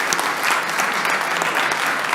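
A round of applause from the audience at the Transform Westside Summit, dense and sustained at a steady level for about two seconds, with no talk over it.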